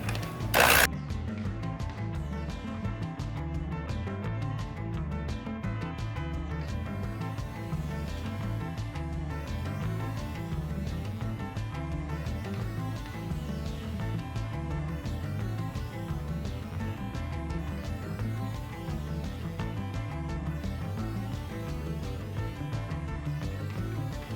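An electric mixer whirs steadily close by as butter, sugar and eggs are beaten into cake batter, with a rhythmic mechanical churning that runs unbroken for the whole stretch without talk.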